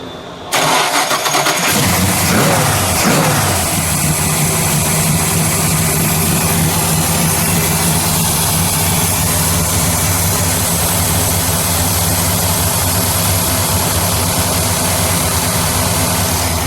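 A 1965 Chevrolet Impala Custom with a 400 cubic inch V8 cranks briefly, fires up with a loud rev, then settles into a steady, rumbling idle that continues close by without talk.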